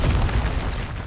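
A Confringo fire spell explodes in the Hogwarts Legacy video game, giving a loud, dense, rumbling blast that stays steady for about a second.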